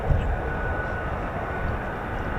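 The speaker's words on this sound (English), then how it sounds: "Oh, they're taxiing and all, so it's all going off at once." F-35B and F-35A Lightning stealth fighter jets taxiing, a steady, continuous low jet engine roar and rumble that holds fairly constant with a faint tonal whine above it, with no talk.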